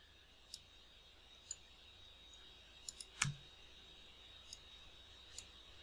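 Faint, sparse computer mouse clicks during drafting in home design software, a handful of light isolated taps spread over several seconds with one slightly stronger click, over a quiet background hiss.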